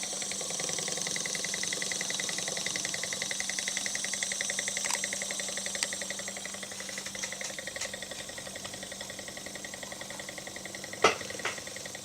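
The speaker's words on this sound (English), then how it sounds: "Pretty cool little Stirling engine." A small Stirling engine runs on a flame at a workbench, making a steady fast mechanical ticking and rattling hum up close, with a few sharp clicks near the end and no talk.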